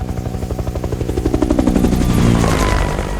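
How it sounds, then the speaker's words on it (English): A helicopter in a film scene swooping in to pick someone up from a hilltop, its rotor chopping in a fast, loud, steady rhythm that builds into a dense close roar before cutting off abruptly. "next thing it flips to a scene of JD reaching the top of a hill, throwing out his smoke grenade, and getting picked up by a chopper"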